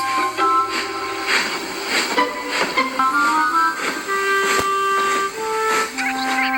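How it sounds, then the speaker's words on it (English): A cartoon steam engine chuffs along with rhythmic puffs and hissing, while sustained whistle-like tones sound over the top. "And Thomas puffed back to the sheds"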